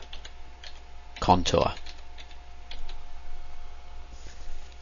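Computer keyboard typed on while entering a tool comment in CNC machining software: a loose scatter of light, near clicks with a brief spoken word in the middle.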